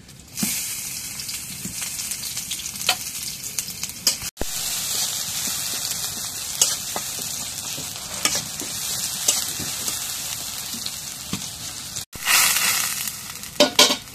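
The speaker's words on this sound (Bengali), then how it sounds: "এখন সয়াবিন তেল দিয়ে দিই। এখন পেঁয়াজ কুচি দিয়ে দিই।" Chopped onion frying in soybean oil, a steady close sizzle with stirring scrapes and a couple of brief breaks, no talking.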